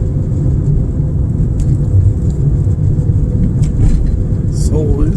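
A car driving along a road on a long trip toward California, giving a steady, loud low rumble of engine and road noise throughout, with someone talking now and then over it.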